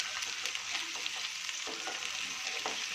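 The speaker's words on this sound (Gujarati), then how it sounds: "ફુલાવરને કટિંગ કરીને રાખ્યું છે એને એડ કરી દઈશું." Cut cauliflower florets frying in oil in a pan for a dhaba-style paneer dish, giving a dense, steady sizzle with soft scraping stir sounds, close and even, with no talking.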